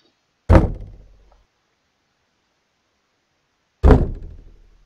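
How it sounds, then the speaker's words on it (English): Two heavy knocks land on a door in a video game, each a single loud thud separated by a long silence, ringing briefly before fading. "Whatever it is, it's knocking right outside the door."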